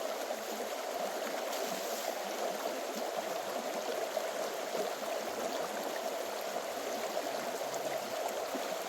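Steady rushing water pours through a gold sluice box as buckets of rich gravel are fed in, outdoors in the rain, a continuous close wash with no pauses.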